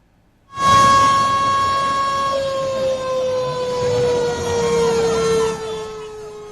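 An air raid siren sounds during a civil defence mock drill, starting abruptly and holding a loud, steady wail whose pitch slowly falls, with no talk over it.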